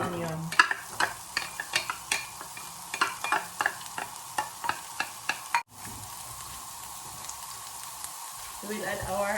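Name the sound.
onion stirred and frying with browned beef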